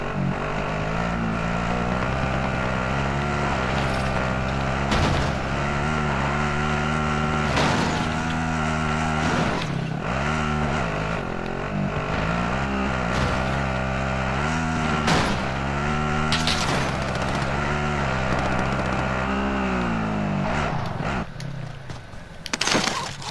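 A vehicle driven in Call of Duty Warzone battle royale, its engine droning steadily and shifting pitch as it revs and slows, loud and continuous throughout, ending with a few knocks.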